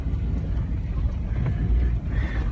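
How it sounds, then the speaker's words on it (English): A lifted Honda CR-V pushes through a deep, foot-high puddle, giving a steady close rush of water and low engine rumble with wind buffeting the microphone and no clear talk. "So I'm going through this big puddle."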